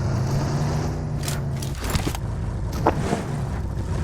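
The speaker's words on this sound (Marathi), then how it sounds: "ए गाडी आली." A vehicle in the BGMI battle royale game on the Erangel map gives off a steady engine drone that rises slightly with a few scraping bursts, heard without talk.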